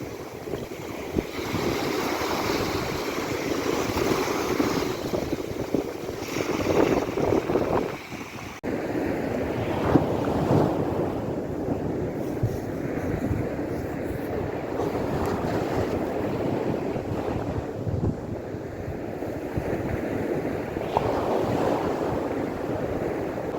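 Black Sea waves wash and roll continuously in Odesa, mixed with gusty wind buffeting the microphone. No voices are heard.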